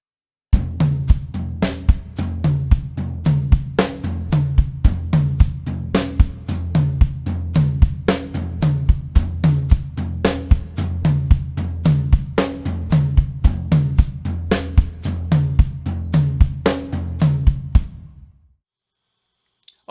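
Drum kit tom groove played steadily with the hi-hat foot pedal chicking on the eighth-note offbeats, a dense, punchy syncopated pattern that runs for about eighteen seconds before stopping.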